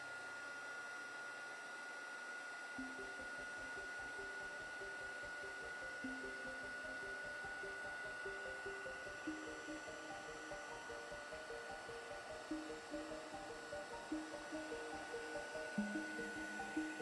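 Heat tool drying embossing powder, a steady faint blowing whir that switches on early and runs on with a slight rattle, no talk over it.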